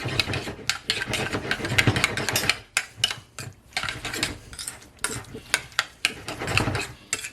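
Cooked rice is stirred into a yogurt mixture with close, scraping strokes and sharp utensil clinks against the bowl, coming in uneven bursts with short pauses.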